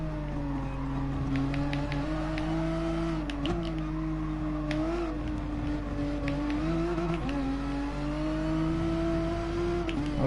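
A racing car engine in Gran Turismo Sport holds a steady high-pitched drone near its rev limiter, rising and dipping slightly in pitch as it strains, loud and continuous with no talk.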